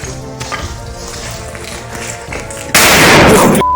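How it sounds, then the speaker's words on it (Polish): A yellow firecracker thrown into a hole in an abandoned building goes off as one loud, sudden broadband blast partway through, cutting over low murmuring and faint voices and ringing out for about a second before stopping abruptly. "właśnie odpalamy tą żółtą petardę i orgę i zamierzamy rzucić się do dziury"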